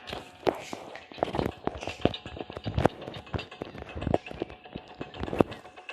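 Heavy footsteps of the enemy Granny in the horror video game Granny thud along in an uneven, hurried rhythm, loud and close, with a few scraping knocks mixed in and no talking.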